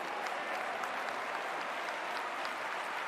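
A basketball arena crowd at a Gran Canaria versus Valencia game roars and applauds in a dense, sustained wash of noise as a player steps up to a free throw.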